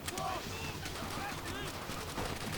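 Battle gunfire in the video game Call of Duty: World at War, rapid machine-gun bursts and shots crackling continuously, with someone speaking over the din.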